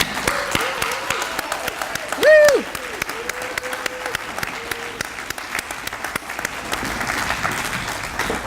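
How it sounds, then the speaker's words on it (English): Conference audience applauding at a sustainability economics event, scattered claps with a single loud cheer partway through and a voice speaking briefly over the clapping. "So I'd like to give her a big round of applause."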